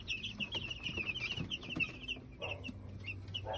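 Three-day-old broiler chicks on a poultry farm, peeping in a steady stream of high, quick chirps, fairly faint, with some low handling noise and rustling underneath.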